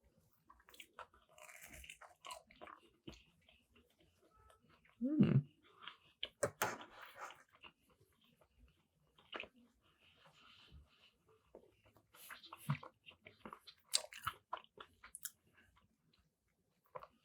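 Someone bites into a plain slice of pizza with no sauce and chews it close up, making faint crunchy bites and soft, intermittent chewing noises in an otherwise quiet room.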